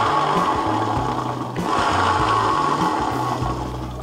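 Worn torque bearing on a Yamaha scooter drivetrain making a loud, grinder-like whirring rattle, close and continuous with pulsing low-pitched surges as the engine revs.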